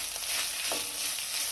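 Coriander and chopped ginger fry in oil in a pan for a Kerala-style fish curry, a steady, close hiss of sizzling with a light stir partway through and no talk.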